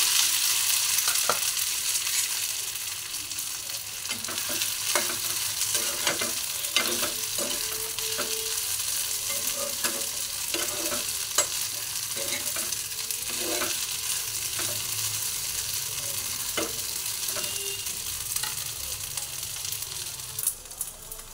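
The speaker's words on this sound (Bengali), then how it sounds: "সাবুদানাটা আমি ঘিয়ে ভেজে নেব" Sago pearls fry in ghee with a continuous close sizzle, punctuated by frequent rhythmic scrapes and clicks of stirring.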